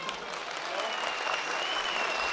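A festival crowd at Kayabelen gives a short burst of dense, even applause that stays fairly loud throughout the brief moment.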